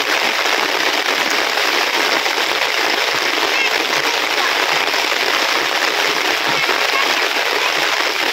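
A hard downpour roars on without pause, a thick, close wash of rain noise that stays level throughout.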